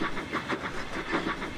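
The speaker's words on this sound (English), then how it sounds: "With Edward pushing from behind and Gordon pulling from the front, the train got moving again." Steam train engines get moving with rhythmic chuffs, rising in regular even puffs, one engine pushing and another pulling, steady and fairly close.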